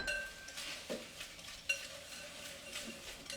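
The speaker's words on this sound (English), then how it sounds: "Now I'm going to mix it with the brown sugar and give it a good mix." Brown butter being stirred into brown sugar in a bowl with a utensil, soft scraping strokes repeating with a light clink of metal against the bowl, close and fairly quiet.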